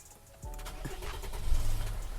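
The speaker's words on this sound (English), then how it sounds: "Now we start the car up." A 2002 Mercedes-Benz ML270 CDI (W163) diesel cranks and fires up after a quiet start, settling into a steady, close engine rumble that swells briefly before idling on.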